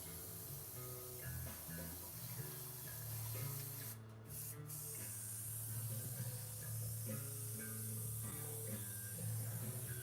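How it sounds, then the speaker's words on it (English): A hobby airbrush hisses steadily as it is sprayed clean after painting a miniature figure, a soft constant spray with a brief break, over faint background music. "Clean out my airbrush here."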